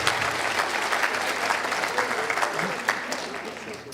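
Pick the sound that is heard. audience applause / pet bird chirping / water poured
audience applause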